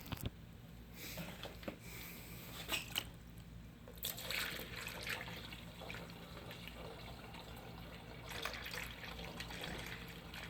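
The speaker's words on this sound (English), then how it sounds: "there may be some more coolant coming out" Coolant trickles and splashes steadily out of a Dodge Charger 3.6L Pentastar engine into a container, a soft continuous liquid flow with a few faint clinks and rustles nearby.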